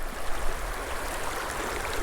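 A small brook-trout stream flows steadily nearby, a continuous broadband rush of moving water with no voices over it.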